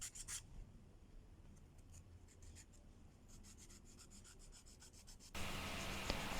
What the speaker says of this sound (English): Then, sandpaper for the best result.